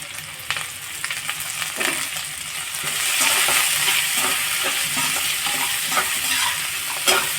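Carrot, beans and cabbage, lightly salted, are stir-fried for chapati noodles, a steady loud sizzle filling the pan throughout with scattered scraping stirs and a sharper clink near the end, and no talk.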